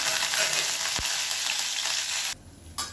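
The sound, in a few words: curry leaves frying in oil after turkey berries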